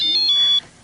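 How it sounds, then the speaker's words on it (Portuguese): A telephone gives a short, bright electronic beep made of a few quick tonal pips, lasting just over half a second before fading into quiet. "O bip do meu telefone."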